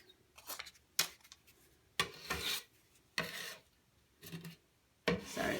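Repeated rasping scrapes of a tool dragged across a surface, several strokes in an uneven rhythm with quiet pauses between them.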